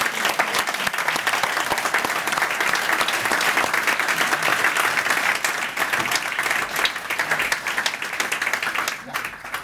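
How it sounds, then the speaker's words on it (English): A crowd applauds as a minister for industry and innovation is welcomed, loud and dense clapping that holds steady for several seconds before tapering slightly, with a voice heard faintly beneath it. "Give him a big round of applause."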